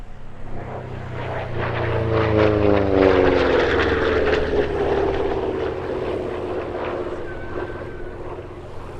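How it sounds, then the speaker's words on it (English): A P-47D Thunderbolt, a WWII piston-engine propeller fighter in 9th Air Force D-Day markings, passes overhead at the RAF Cosford airshow, its engine drone rising loud and steady with a sweeping Doppler pitch shift, then fading away. "it represents a Thunderbolt flown by the 492nd Fighter Squadron of the 9th Air Force in the D-Day period"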